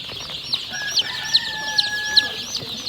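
Several chickens and roosters cluck and chirp in quick repeated bursts close by, with a steady background murmur of a busy poultry market in the town of Manas.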